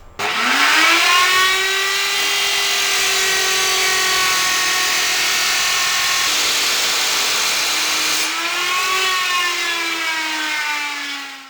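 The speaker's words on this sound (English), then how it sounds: "I'm just going to get this plugged in and cut it so it's down a bit shorter so it's not hanging out as much" A corded power tool cuts a bolt down shorter for a trailer build, holding a loud, steady, high motor whine for about eleven seconds, with a brief dip in pitch as it bogs under load.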